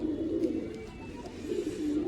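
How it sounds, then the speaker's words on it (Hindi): A strong male pigeon of an old breed coos close by, low throaty rolling calls in two bursts over about two seconds. "ताकतवर कबूतर है।"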